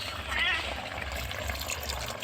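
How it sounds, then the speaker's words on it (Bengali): Water is poured into a pan of cooked chicken curry, giving a brief trickling splash near the start that settles into a soft, steady liquid sound. "এবারে আমি এর মধ্যে জল দিয়ে দেবো।"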